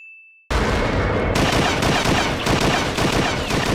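Cannon fire in a One Piece anime battle: a dense, continuous barrage of loud booming blasts bursting in after a brief tone and silence, rolling on in rapid overlapping volleys.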